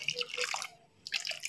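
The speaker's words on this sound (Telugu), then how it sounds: "కొద్దిగా వాటర్ యాడ్ చేసి" Water is poured into an Afghani-style egg curry, with close splashing and dripping in two short bursts separated by a brief pause.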